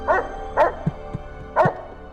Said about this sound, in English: Ah, they have little pups. Little cyber pups.